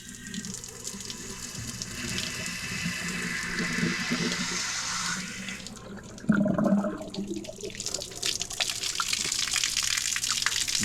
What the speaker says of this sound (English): I've got my water hose hooked up to it. When I turn this on, that block will fill up with water, and it'll clean up.